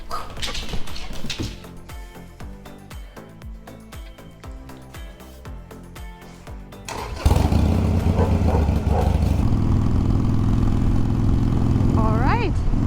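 A Harley-Davidson motorcycle engine fires up abruptly after a stretch of rhythmic clattering, then holds a loud, steady, deep idle rumble, with a few rising rev sweeps near the end.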